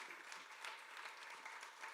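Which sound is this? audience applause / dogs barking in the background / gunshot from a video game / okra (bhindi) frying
audience applause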